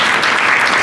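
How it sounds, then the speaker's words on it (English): Loud applause from students in a class, praising a pupil for a correct answer, a short dense burst of clapping close by with no voices over it. "Give her applause."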